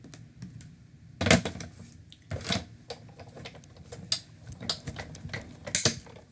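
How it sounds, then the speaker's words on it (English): Paper is die-cut on a magnetic platform, giving close, sharp mechanical clicks and ratcheting crunches in irregular bursts as the machine works through the paper, with no talking. "I'm just going to use my magnetic force from my magnetic platform to cut that."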